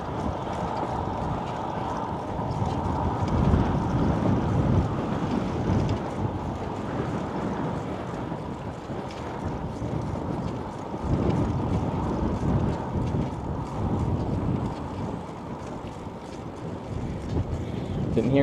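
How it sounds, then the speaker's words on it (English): Heavy wind buffets a microphone while cycling into a straight headwind on Muhu island in Estonia, a continuous loud low rumble and roar that rises and falls in gusts. "We're riding into a straight headwind right now."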